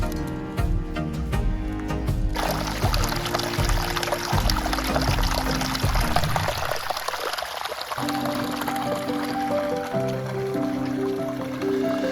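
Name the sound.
pouring water to wash chicken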